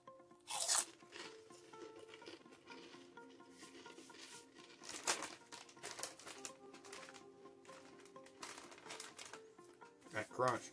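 Queso-flavored Baken-Ets pork rinds are bitten and chewed, with loud crisp crunches at the start, middle and end and softer crackly chewing in between, close to the mic.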